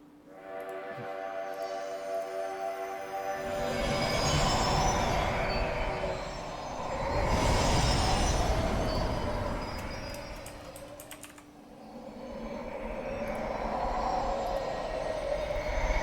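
A train rumbles through a Dragon Quest IX cutscene, swelling and fading in broad waves of rolling noise with a faint metallic squeal, set against a soft sustained musical tone at the start.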